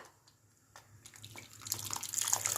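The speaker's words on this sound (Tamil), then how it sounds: "ஒரு லெமன் சைஸ் புளியை கரைச்சி நம்ம இதில் ஊற்றிக்கலாம்." Dissolved tamarind water, lemon-sized tamarind, poured into a simmering sardine fish curry, a soft liquid trickle with drips that swells into a steadier splashing pour near the end, close and alone.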